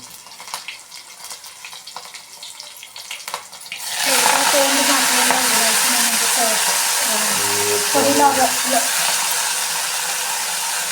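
Washed methi greens drop into hot oil with garlic and green chillies in a pot, setting off a sudden loud sustained sizzle after quieter clatter, continuing steadily to the end.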